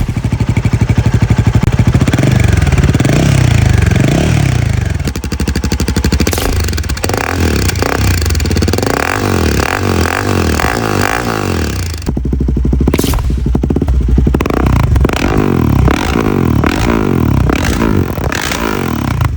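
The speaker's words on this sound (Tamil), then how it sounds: "இதோட சவுண்ட் நோட் வந்து with DP killer without DP killer எப்படி வரும்ன்றதை நான் இதில் அட்டாச் பண்ணுறேன்." A Royal Enfield Himalayan 450 motorcycle with a Silver Stallion Performance full system exhaust idles and revs loudly nearby, its deep throbbing exhaust note rising and falling through repeated throttle blips without any talking.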